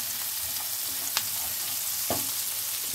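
Onions fry in a pan for a kalonji katla fish curry, giving a steady bright sizzle with a couple of sharp spatula scrapes against the pan.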